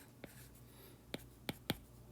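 A trigonometry formula is written by hand with a pen or marker, giving four faint, sharp tapping strokes spaced unevenly over about two seconds against a quiet background.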